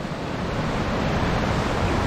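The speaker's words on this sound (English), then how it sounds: "Look at the size of the waves." Big waves rolling on a river below an old western-style town, a steady loud roar of churning water mixed with gusting wind across the microphone, continuous throughout with no voices.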